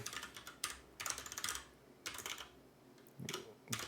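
Quick bursts of typing on a computer keyboard, entering graphics code, heard in clustered runs of close clicks separated by short pauses, with no speech.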